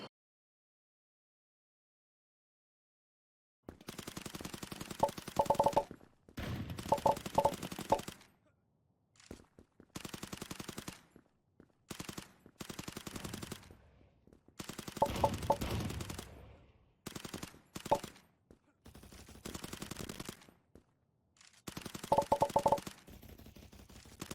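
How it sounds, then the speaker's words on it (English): Rapid bursts of gunfire in the first-person shooter Krunker, pre-firing around corners, coming in clustered volleys separated by short silences, loud and close with no voices. "pre-firing is really important, shooting before they come through that area"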